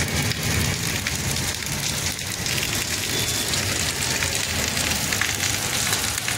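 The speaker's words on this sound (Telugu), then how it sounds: "చూడండి వర్షం ఎట్లా పడుతుందో నాన్ స్టాప్." Heavy rain from Cyclone Montha pouring down nonstop, a dense, loud hiss of drops hitting surfaces with no letup and no voices.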